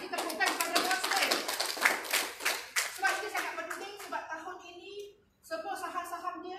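An audience claps in a burst of quick, crisp hand claps with a busy, uneven rhythm, fairly close, thinning out and briefly dropping away before resuming; voices murmur faintly alongside.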